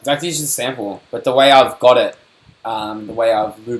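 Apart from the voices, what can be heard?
No everyday noise stands out behind the speech.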